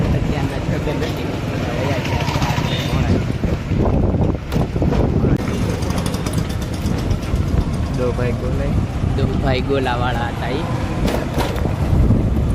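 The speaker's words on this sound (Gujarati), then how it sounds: "પવનનો અવાજ આવી છે નકરો." Strong wind buffets the microphone on a ride through Botad near the Bhavnagar circle in Gujarat, a loud, continuous low rumble with gusts, while someone talks over it and traffic passes.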